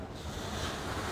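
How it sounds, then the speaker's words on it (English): Steady roar of ocean surf with waves breaking nearby during a storm, mixed with wind buffeting the microphone, continuous and fairly loud. "I could just see the waves breaking"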